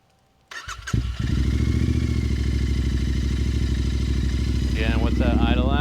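A Royal Enfield Continental GT650 with a Gursewak exhaust starts up and settles into a loud, steady, deep parallel-twin burble that runs close up throughout, with a brief rise in tone near the end.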